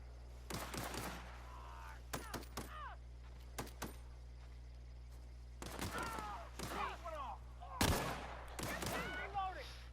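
Guns firing in the video game The Outer Worlds, several bursts of rapid shots scattered across the stretch, some louder and closer than others, separated by quieter gaps with game sound and voices between.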